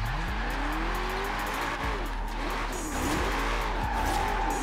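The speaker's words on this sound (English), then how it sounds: "Get a little drift in there with this" Tires squeal in sweeping, wavering bursts as a car drifts in the Forza Horizon 4 video game, a modified Shelby GT350R, with engine roar underneath, loud and continuous.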